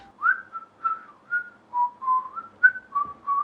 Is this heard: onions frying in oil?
no